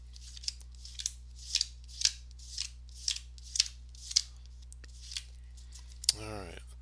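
A deck of cards for a tabletop basketball game is cut and dealt, with about ten crisp, evenly spaced card flicks close by, followed by a brief louder shuffle-like rustle at the end.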